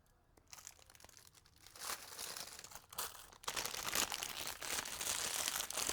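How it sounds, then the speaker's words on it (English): A plastic bag being handled, with crinkling and rattling that starts quiet and builds into steady, close, continuous rustling. "Sorry for the bag rattling, everybody."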